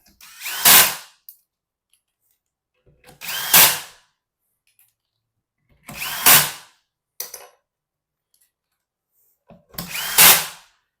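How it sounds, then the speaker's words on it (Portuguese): A power tool drives in the four bolts holding a Wabco EBS brake modulator module for a Mercedes-Benz Actros, giving four loud, close whirring bursts of about a second each. Quiet gaps separate the bursts. "Vamos colocar aí os 4 parafusos."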